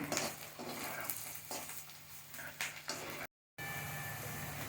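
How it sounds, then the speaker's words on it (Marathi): Masala roasts in a pan while a spoon stirs and scrapes it, giving soft, uneven scrapes and clinks over a low sizzle. A brief silent gap breaks the sound near the end. "आता छान मिक्स करून घेऊया आणि आपण साधारण एक पाच मिनटं अजून त्याला ओढूया आपल्याला हे मसाल्यासाठी छान भाजून घ्यायचं आहे"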